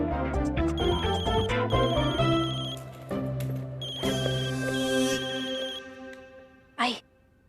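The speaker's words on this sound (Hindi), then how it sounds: "मेरा फोन बज रहा है।" A mobile phone ringtone plays a steady, melodic electronic tune at moderate loudness through a television drama scene, continuing for several seconds before cutting off with a brief burst of sound at the end.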